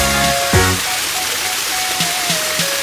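An artificial waterfall fed by a pump inside a cafe spills with a steady, full splashing rush, heard up close with a few faint tonal sounds in the background.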